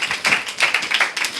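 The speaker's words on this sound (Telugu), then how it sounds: "చప్పట్లు కొట్టాలి." A church congregation claps loudly, a few bursts of close, rhythmic hand claps in quick succession.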